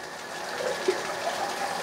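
Hot water runs from a tap in a steady, close rush for shaving, with faint splashes and no talk.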